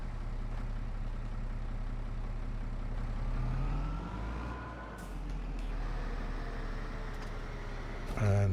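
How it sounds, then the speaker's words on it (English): A tractor engine in Farming Simulator 25 drives forward, a steady low droning rumble that rises and shifts in pitch as it moves, with a short hiss and a clunk near the end. "Let's pull the tractor forward and open the doors."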